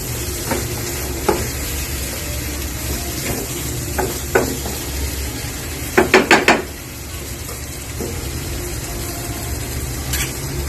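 Spoon stirring a sizzling mixture of salt and sugar in a pan, steady frying hiss throughout with scattered scrapes and a quick cluster of clinks midway.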